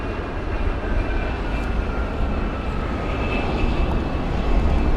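Embraer E145 airliner landing at London Heathrow in windy conditions, a continuous broad engine roar with no reverse thrust, steady and fairly distant, slightly swelling toward the end.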